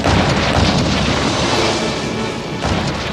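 A massive salvo from HMS Rodney's 16-inch naval guns in the battle against the Bismarck: a dense, thundering roar of overlapping booms, loud and sustained, with a fresh blast swelling near the end.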